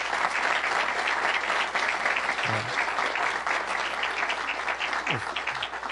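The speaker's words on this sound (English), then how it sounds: "So a huge round of applause for these folks one more time" A live audience applauds a group of performers at a game-themed safety presentation, steady dense clapping filling the room from start to finish with no talking over it.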